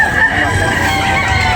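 A rooster crows repeatedly amid the steady din of a busy chicken market in Carbon, Cebu City, with overlapping calls and clucks from other fowl close by.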